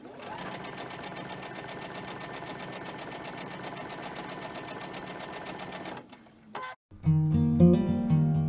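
A sewing machine runs steadily for about six seconds, stitching pieces of fabric together with a fast, even mechanical whir, then stops; a brief clatter follows before louder tonal sounds come in near the end.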